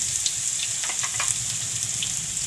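Cumin, red chili and ginger-garlic paste sizzle in hot oil for a raw papaya curry, a steady close crackle with brief bursts of spattering and no voices.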